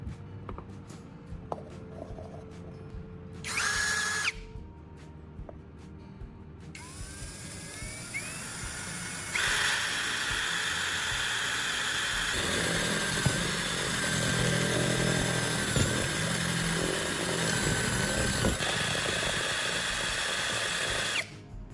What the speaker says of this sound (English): I'll drill a hole the same size as the spark plug thread,